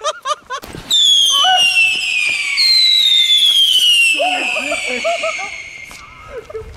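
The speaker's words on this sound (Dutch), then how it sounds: "Even een pakje Funke luchthuilers doen." Funke luchthuiler fireworks: after a few short pops, a loud shrill whistle screams continuously for several seconds, sliding slowly downward, with crackling bangs and voices talking underneath near the end.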